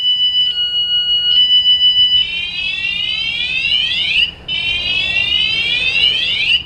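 A kayak trailer security alarm blares loudly and close, first as a steady pulsing electronic tone, then as a repeated rising siren sweep that briefly cuts out and resumes.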